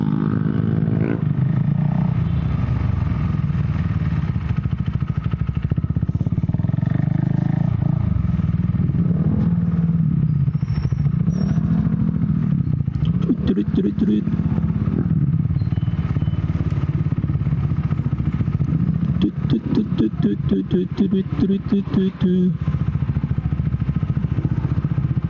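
A Husqvarna Vitpilen 401 motorcycle rides through Ozamiz City streets, its steady engine drone loud and close throughout, rising and falling with throttle changes and rattling at moments.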